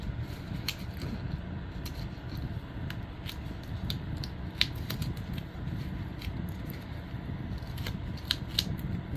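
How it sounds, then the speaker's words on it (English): Scissors snip through green paper for a scrapbook layout, producing scattered sharp little clicks and cuts over a low, steady background hum, close by and fairly quiet. "I have another piece of green here. And then I can just cut around it and make it pop a little bit better."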